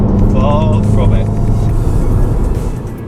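A SEAT Leon Cupra 300 hot hatchback engine drones steadily from inside the cabin while driving, a low constant hum with someone talking over it and the level easing off toward the end.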